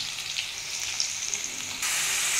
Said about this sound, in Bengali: আমার আলুটা লাল লাল করে ভাজা হয়ে গেছে